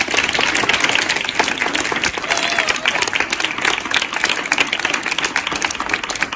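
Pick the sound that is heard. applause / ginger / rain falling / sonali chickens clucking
applause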